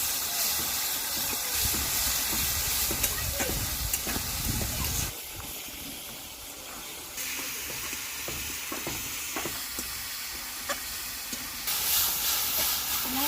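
A spice paste of chili powder and salt fries in a pan with a little water in a village kitchen, giving a loud, continuous hiss and sizzle that shifts in intensity, with occasional stirring scrapes.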